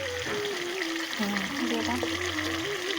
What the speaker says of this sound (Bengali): হালকা ভাজা ডিমগুলো, কিন্তু খুব ভাজা নয়, হালকা ভাজা।